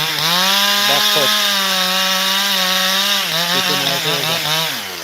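A chainsaw runs steadily at high revs while making the back cut to fell a tree during farm land clearing, its loud buzzing engine dipping briefly in pitch several times as the chain bites into the wood.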